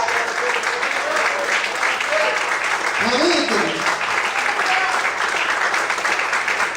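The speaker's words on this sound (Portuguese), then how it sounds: "aplauda o Senhor e a glória a Deus nessa noite" A church congregation applauds the Lord during an evening service, sustained dense clapping from many hands filling the room, fairly loud and continuous, while a pastor's voice speaks briefly over it.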